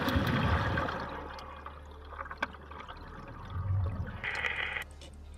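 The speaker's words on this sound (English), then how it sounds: "They are prepared for a dangerous dive and quickly go into the water." Divers preparing for a shark dive plunge into the sea, making soft splashing and bubbling water sounds that swell and fade in a couple of bursts. The sound is fairly faint and heard without speech.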